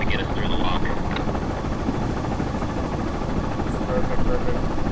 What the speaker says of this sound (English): I got the outboard going just to get us through the lock.